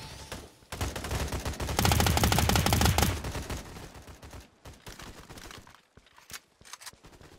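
Gunfire from the mobile shooter Battle Prime during a Domination match, rapid automatic bursts that build into a dense, loud fusillade, then thin out into scattered shots and footsteps.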